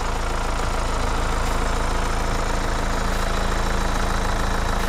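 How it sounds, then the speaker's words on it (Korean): A Hyundai Santa Fe TM 2.2 diesel 4WD engine idles steadily with a low, even rumble and faint rhythmic knock, close by and unchanging throughout, with no voices. "엔진 소리 일정하네요"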